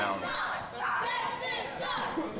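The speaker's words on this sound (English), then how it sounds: "Crowd here trying to get under his skin" Wrestling crowd jeering a wrestler at a televised ring event, a steady roar of mixed voices and shouts throughout, fairly loud and continuous.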